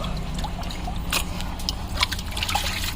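Water trickles and splashes softly as fish are rinsed by hand during village cooking, a continuous, fairly quiet wash with a few brighter drips, and no voices.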